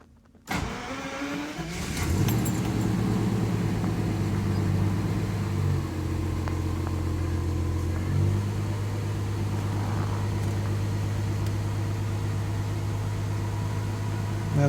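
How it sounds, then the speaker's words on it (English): A 1984 Jaguar XJS V12 cranks briefly, catches and settles into a loud, steady high idle with a strong low drone and a slight dip in pitch partway through, no talking. "we're going to crank it up here, and I'll show you how it'll idle high at first."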